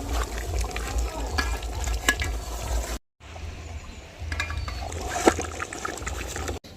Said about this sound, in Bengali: আমি এই কাঁচা আলু দিয়ে ভালোভাবে আবার কষিয়ে নেব নাড়িয়ে চাড়িয়ে নেব